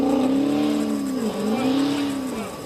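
A car in dark nighttime streets speeds off from a police traffic stop, its engine note rising and falling in two strained revving sweeps with steady road roar, close and loud.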